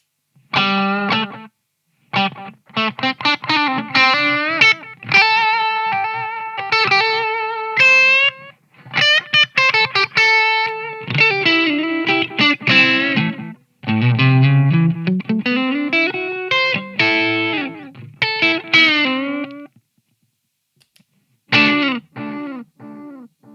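Electric guitar played through a delay pedal with dark, muted repeats and the reverb switched off: a run of distorted, sustained notes and chords with echoing tails, stopping briefly before a final short phrase.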